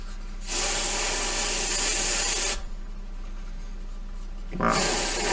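Airbrush spraying Vallejo Shifters metallic paint onto a black surface, a steady close hiss in two sustained bursts separated by a quieter low hiss.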